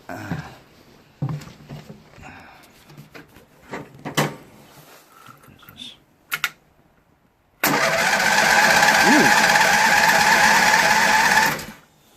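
A 12 hp Toro Wheel Horse 38XL lawn tractor riding mower, a curb-pick machine with a replaced solenoid, cranks with a few short handling knocks, then its engine catches and roars loudly and steadily for several seconds before cutting off.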